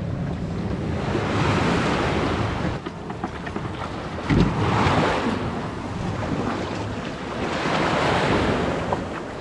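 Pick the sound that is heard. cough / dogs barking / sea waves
sea waves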